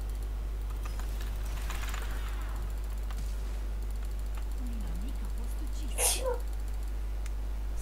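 A single sharp sneeze from a person during a Left 4 Dead or League of Legends gaming session, heard over a steady electrical hum with faint keyboard clicks earlier.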